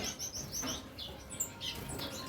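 Brief high-pitched chirps and calls from caged breeding parrots, with a soft wing flutter near the middle, quiet against a low steady room hum.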